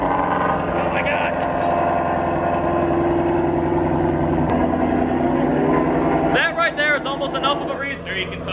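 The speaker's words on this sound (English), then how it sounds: "That there, that exhaust sound is enough of a reason to buy one of these." Shelby GT350R with the Voodoo engine idling after a cold start, a loud steady exhaust burble throughout, with people talking over it in the final seconds.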